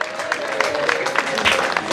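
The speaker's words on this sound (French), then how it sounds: "Est-ce qu'on peut applaudir très fort pour elle?" Wedding guests at a religious marriage ceremony break into sustained applause, a dense wash of many hands clapping with crowd murmur close by, voices faintly audible under it.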